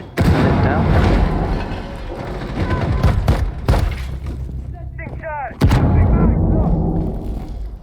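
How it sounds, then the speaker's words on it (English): Loud goal explosions in a Rocket League esports match, booming bursts repeating through the clip over crowd noise and energetic commentary. "These explosions are really loud."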